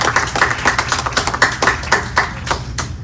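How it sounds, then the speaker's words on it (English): Applause at a senior living community town hall for a nursing staff member, a brief run of separate, fairly sharp handclaps with an uneven rhythm, close and alone with no talking. "round of applause for Daryl Stevenson, Personal Care LPN."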